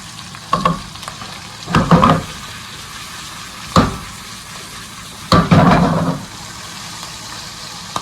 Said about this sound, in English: Just get that fried for 20 seconds.